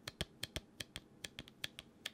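A quick, irregular series of sharp little clicks, close and crisp, like tiny pops being pressed, with no voices.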